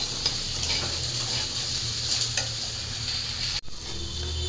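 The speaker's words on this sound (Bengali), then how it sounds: "তো আমার আলুগুলো প্রায় ভাজা শেষ" Potatoes fry in hot oil with a steady, close, bright sizzle. A brief clatter of stirring sounds near the end.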